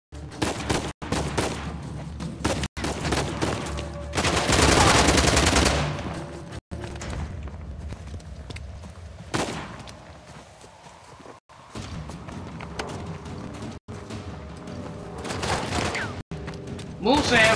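Gunfire from a gun in the action-adventure game Uncharted: The Lost Legacy comes in sharp bursts and longer rattling volleys over a busy battle soundscape, with a voice talking in between.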